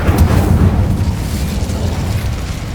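The Incendio fire spell cast in Hogwarts Legacy, a loud rushing, crackling burst of flame with a deep booming rumble that stays dense and close before easing slightly, with no talk over it.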